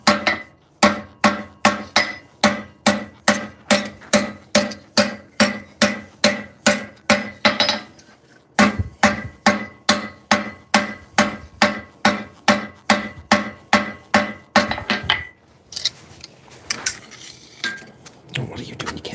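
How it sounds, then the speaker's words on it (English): A small hammer strikes metal while forging claw teeth, in a fast, steady rhythm, dozens of bright ringing taps with a short pause midway, then scattered softer knocks. "the little hammer just pushes in all the sharp angles"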